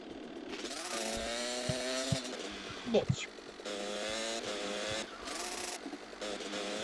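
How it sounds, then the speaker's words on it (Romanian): A scooter engine in GTA Vice City buzzes and revs with rising and falling pitch amid other game sounds, fairly close, with a brief spoken word. "dintr-o dată auzi o motoretă"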